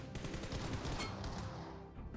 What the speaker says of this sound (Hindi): हेडशॉट मारा, बॉडी शॉट मारा